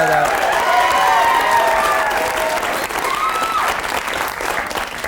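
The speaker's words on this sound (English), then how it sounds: "If you're watching in Oregon, we're applauding." A studio audience applauds steadily for several seconds, a dense, even wash of clapping with a voice faintly over it.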